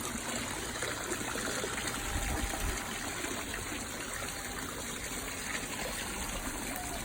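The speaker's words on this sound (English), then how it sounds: "Clear water coming from the waterfall." Small koi pond waterfall trickling steadily, a faint continuous splash and burble of running water, alone with no voices.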